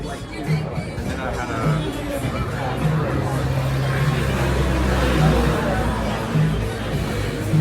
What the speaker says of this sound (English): So it looks like a pretty good crowd.